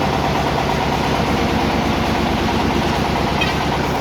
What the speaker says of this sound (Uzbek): Bu bizning traktorimiz bitta porsiyaga aylantirib beryapti